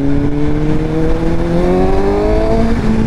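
A Suzuki GSX-S750 motorcycle with an inline-four engine revs steadily and loudly, its pitch climbing smoothly through a short run with no talk over it.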